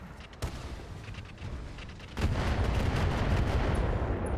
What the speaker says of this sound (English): So that building comes down due to artillery fire.